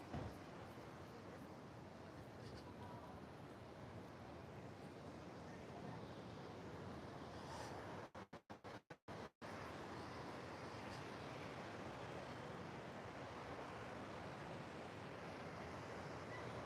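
Surf breaking at Snapper Rocks, a popular surf beach near a lifeguard tower, a constant wash of waves heard from a high vantage point, with wind buffeting the microphone and a brief dropout midway.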